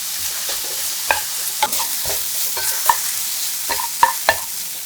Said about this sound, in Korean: 당근을 넣고 골고루 볶아주세요. 소금 3꼬집, 후추 약간으로 밑간하고 익을 때까지 볶아줍니다.